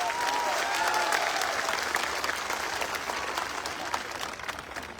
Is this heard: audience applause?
yes